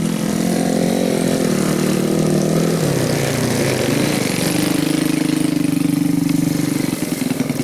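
A trail motorcycle used as a grain-sack taxi runs loud and close, its engine droning steadily, then dipping and rising in pitch before holding an even rev.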